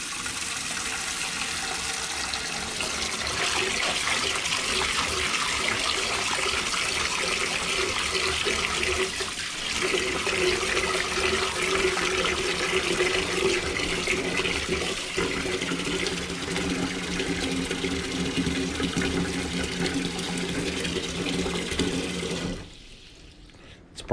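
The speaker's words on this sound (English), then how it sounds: "Now we're going to fill it up with cold water." Cold water runs from a tap into a large cooking pot for boiling lobsters, a steady gushing fill that carries on for over twenty seconds before it is shut off abruptly.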